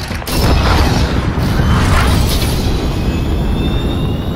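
A cruise missile in Modern Warfare roars steadily and loudly with a dense, rumbling mechanical rush, heard close and continuous without a distinct separate impact.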